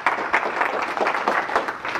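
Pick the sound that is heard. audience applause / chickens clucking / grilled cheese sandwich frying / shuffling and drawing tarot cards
audience applause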